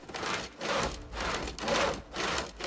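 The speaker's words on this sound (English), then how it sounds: "I like how it looks like I'm sawing with the claw hammer." Rhythmic wood sawing from the video game Project Zomboid, with five steady back-and-forth strokes of a saw cutting through a board, close and clear, with no voices.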